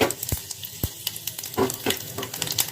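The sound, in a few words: spices frying in oil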